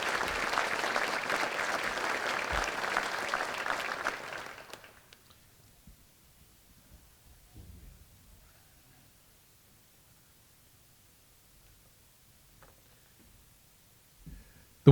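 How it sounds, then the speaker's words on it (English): Audience applause at a sports hall of fame induction ceremony honoring young women athletes, a broad steady clapping that fills the first four seconds and then stops abruptly, leaving near silence with faint scattered noises. "Let's give another round of applause to these extraordinary young ladies."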